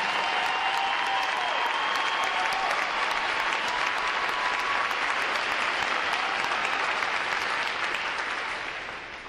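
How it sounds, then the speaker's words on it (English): Sustained crowd applause fills a Navy recruit graduation ceremony, a dense, even roar of clapping hands that holds steady for several seconds before tapering slightly at the end. "Please join me in giving them a round of applause for their outstanding performances."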